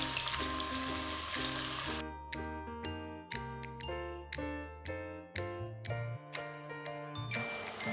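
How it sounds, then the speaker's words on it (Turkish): Lamb cubes sear in hot oil, with a steady sizzle at first that then gives way to bright repeated chiming tones and soft frying underneath. "Şimdi etleri yağın içine ekliyorum ve güzelce renk alana kadar yaklaşık 5-6 dakika onları mühürlüyorum."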